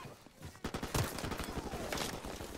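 Rapid bursts of gunfire in Call of Duty 4: Modern Warfare Remastered, a string of sharp, loud shots in quick succession with a heavier blast near the start, close and dominating the mix.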